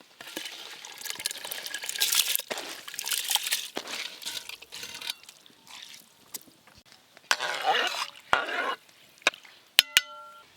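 Soaked, washed rice slides and splashes with water into a cooking pot in a few wet, scraping bursts, followed by some sharp clinks of a utensil near the end.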